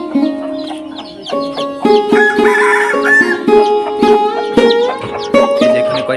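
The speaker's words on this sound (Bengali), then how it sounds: "এই যে দেখুন সাথে আরেকটা মুরগি।" Desi domestic hens on a village homestead, brooding over eggs with chicks nearby, cluck and call in overlapping, steady bursts that sound close and fairly loud, with no talking.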